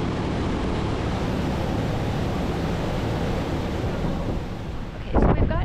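River shuttle boat cruising on the St. Lawrence River near Quebec City, heard as a loud constant rush of wind buffeting the microphone over engine and water noise, with a brief knock near the end.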